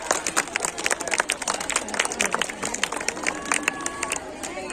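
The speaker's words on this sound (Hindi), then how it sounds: "जोरदार तालियां सभी बच्चों के लिए बजाना है ना।" An audience at a school annual event claps for the children: dense, steady applause with crowd chatter running through it for several seconds.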